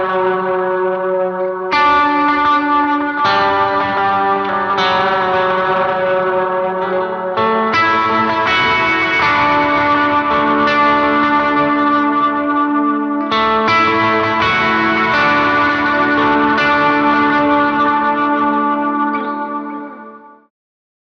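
An electric guitar plays a long sustained lead riff as a harmony melody from the worship song Be Enthroned, loud and continuous with heavy effects, distortion, chorus and echo, ending abruptly after about twenty seconds.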